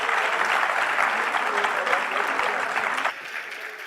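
Strong audience applause for a panel at a peace and security forum in Lomé, steady clapping that drops abruptly near the end to a quieter patter.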